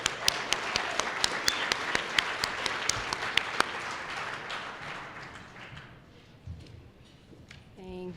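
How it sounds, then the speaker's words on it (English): A gala audience at the ASA Awards applauds Ashley with dense, steady clapping that is loud at first, thins out and fades over several seconds, leaving a few scattered claps and a brief voice at the end. "So huge round of applause for Ashley."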